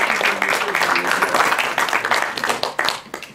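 Audience applause at a book launch in Romania, many hands clapping together in a dense, steady burst close by that thins and fades toward the end.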